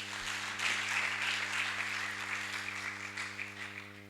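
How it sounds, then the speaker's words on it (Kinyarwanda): A church congregation claps together in sustained applause, a dense, steady wash of many hands close by that holds for several seconds over a constant low electrical hum, with no talking. "dukomere Imana amashyi."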